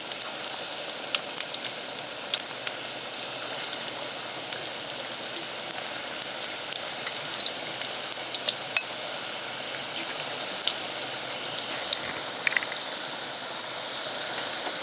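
Pork pieces sizzle and crackle steadily in oil in an aluminum pan, a dense, even hiss with scattered sharp pops throughout, close up and continuous with no talking.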